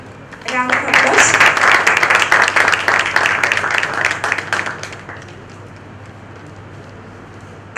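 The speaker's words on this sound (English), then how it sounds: "Round of applause." Conference hall applause for a chief guest at a medical programme breaks out after a brief voice, a crisp burst of many hands clapping that swells loudly, then tapers away into quiet room noise.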